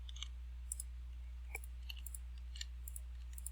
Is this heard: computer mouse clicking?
yes